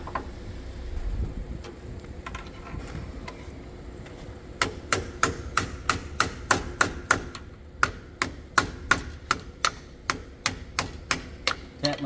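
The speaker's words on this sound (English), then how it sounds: "tap my shim in the way it's supposed to go" A hammer lightly taps an axle seal shim into place on a 2008 Jeep Wrangler, making a run of evenly spaced, sharp metallic ticks close by. Rustling handling noise comes before the taps.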